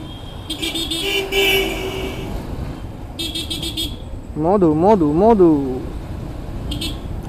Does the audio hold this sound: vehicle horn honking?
yes